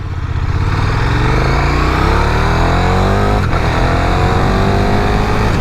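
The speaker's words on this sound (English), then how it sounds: "Exhaust sounds amazing stock." A stock-exhaust KTM 1290 Super Duke R Evo motorcycle engine revs loud and close for several seconds, pitch sweeping upward and dropping with a throaty, continuous roar and brief rasp near the end.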